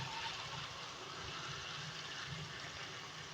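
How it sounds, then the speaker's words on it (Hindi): Two glasses of water poured into a pan of browned beef and potato curry, a continuous rushing, gushing pour heard close up and alone. "मैं इसमें 2 गिलास पानी ऐड कर रही हूँ"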